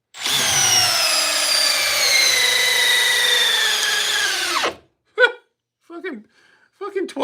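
A Milwaukee 12-volt impact driver drives a 10-inch timber screw in one sustained, loud hammering burst that winds down, followed by brief voices talking.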